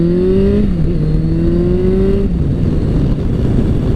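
Kawasaki Concours 14 motorcycle with nearly 100k miles accelerating hard, its engine note climbing in pitch through gear changes, loud and close with steady wind roar.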